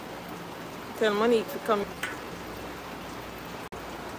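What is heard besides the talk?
rain falling in Kingston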